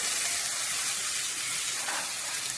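A spice paste of turmeric and salt hitting hot oil in a pan while cooking a katla and pabda fish kalia, heard as a loud, steady, close sizzling hiss throughout, with no talking.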